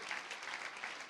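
A church congregation applauds and cheers after a reading of the word of God, a dense, continuous burst of many hands clapping, somewhat distant.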